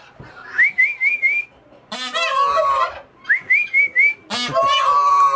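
A person whistles short rising phrases on a farm, and a turkey answers each one with a loud burst of gobbling. Whistle and gobble alternate twice, close to the listener, with no talk.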